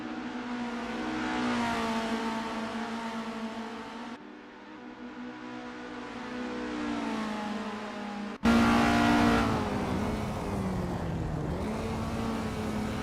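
Isuzu Bellett GTR race cars in Assetto Corsa at Autodrom Most, engines droning and revving through gear changes, pitch rising and falling as cars pass, loud and continuous with abrupt shifts in perspective.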